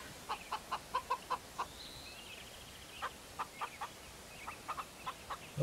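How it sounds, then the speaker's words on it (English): A chicken in a farming video game gives a series of sharp, evenly paced clucks with a brief squawk midway, close and distinct over a quiet background, with no speech. "How you doing, chicken? You look fluffy."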